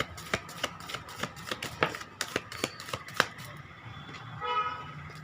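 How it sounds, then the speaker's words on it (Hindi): Tarot cards shuffled by hand, a series of crisp, irregular riffling and tapping bursts close by, tapering off into a quieter stretch near the end. "तो मैं अभी आपके सामने यहाँ पर कार्ड को मिक्स करती हूँ"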